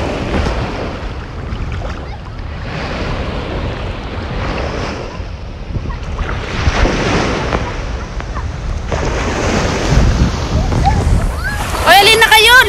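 Strong ocean waves at Gold Coast Beach in Hong Kong, loud surf washing in repeated surges with heavy wind rumble on the microphone and voices calling out over it.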